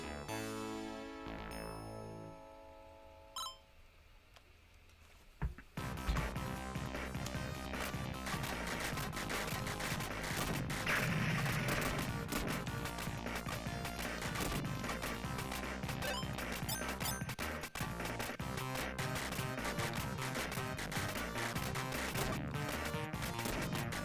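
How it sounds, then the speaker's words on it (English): Loud, dense Raiden arcade shooter audio with constant blasts and crashing explosions layered over driving music, barely letting up after a quieter opening few seconds. "the explosions in this fucking game are so loud"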